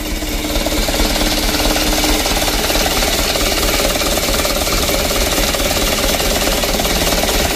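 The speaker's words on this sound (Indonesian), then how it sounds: "Untuk mesinnya sudah hidup teman-teman" A Mitsubishi Canter truck engine runs at a steady idle after starting, a loud, dense, continuous diesel clatter heard close up throughout with no talk.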